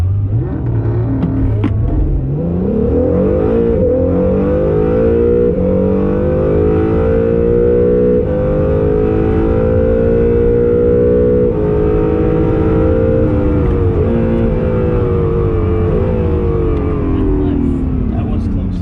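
A Honda NSX engine revs up under hard acceleration while racing, its tone climbing steadily then holding a high, loud whine for several seconds before easing off, heard from inside the car.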